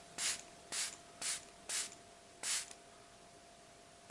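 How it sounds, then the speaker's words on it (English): A hand-pumped spray bottle mists water onto a motorcycle visor treated with Mr Sheen furniture polish. Five short, sharp hissing bursts come close to the mic in an uneven rhythm, with quiet gaps between them. "let's try again with the misting. Or road spray in a bottle."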